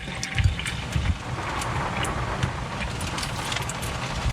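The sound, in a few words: water running from RV water system tap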